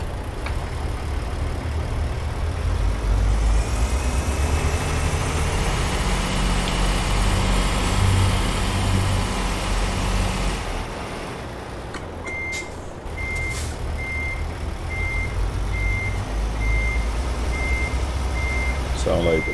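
A Peterbilt 389-style truck engine rumbles steadily in Euro Truck Simulator 2, joined later by repeated reversing beeps, with a voice talking over the droning engine.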